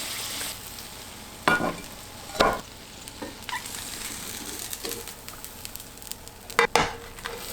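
A cabbage and egg pancake sizzles gently and steadily in a pan over very low heat, close by, broken by a few sharp clicks and scrapes.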